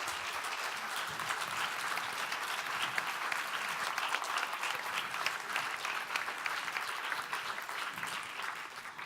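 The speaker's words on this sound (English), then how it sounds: "can we have a round of applause" Audience applause for ambassadors at a European Vocational Skills Week event, a dense, steady wash of many hands clapping that holds evenly throughout with no talking.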